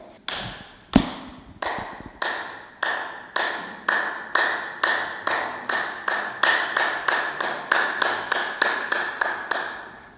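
A single man claps out the farm worker clap alone at a university keynote, roughly twenty sharp, loud, close claps that start spaced and steadily speed up into a quickening rhythm, with no voices over them.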